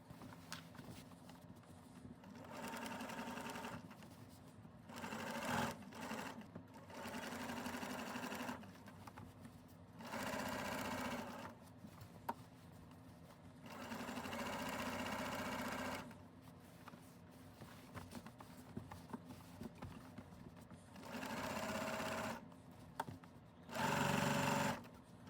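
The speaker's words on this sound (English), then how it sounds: "Sewing curves is trickier, so you want to take your time and go slow for that." A sewing machine stitches curves on a whole cloth quilt in repeated short bursts, running a few seconds at a time with brief pauses between, close and steady.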